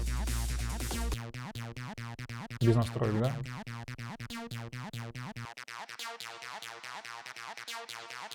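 An unprocessed acid bass synth line plays in Ableton Live for a track, running as a quick stream of short, squelchy staccato notes at moderate level, with a brief spoken question near the start.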